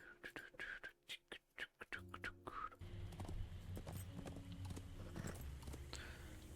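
Horse hooves clip-clop in The Lord of the Rings Online as a character rides; a few soft whispery sounds come first, then a steady, rhythmic trot of hoofbeats continues close and clear.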